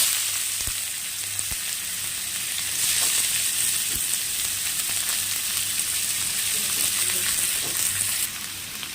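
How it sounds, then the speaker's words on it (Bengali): Onions fry in hot oil in a kadai over low flame with a loud, steady sizzle, close and continuous, with a few light clicks and no voices. "পেঁয়াজটাকে লাল লাল করে ভাজবো আস্তে ফ্লেমে"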